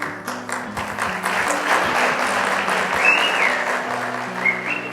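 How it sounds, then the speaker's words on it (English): Steady applause from a sizable crowd at a Youth of the Year awards event fills the space, with a faint whistle rising briefly partway through. "that round of applause is for you"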